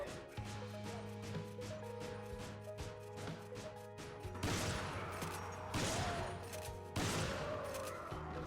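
Ithaca shotgun blasts in Resident Evil 5 ring out against a Giant Majini, a rapid string of sharp game gunshots over a steady droning backdrop, followed by heavier booming hits spaced about a second apart.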